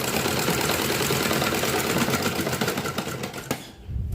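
A sewing machine runs steadily as it stitches a blouse, a dense, close mechanical whirr with a rapid rattling beat that continues without pause and stops abruptly just before the end.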